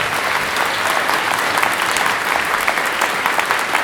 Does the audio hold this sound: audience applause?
yes